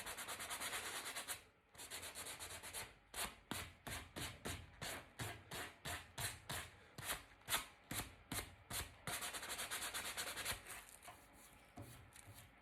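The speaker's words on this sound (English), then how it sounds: "just give it a little light rub, just to remove the wax where it doesn't need to be" Wax is lightly rubbed off painted woodwork with quick, rhythmic back-and-forth strokes, a soft close scuffing in steady bursts, faster and denser toward the end.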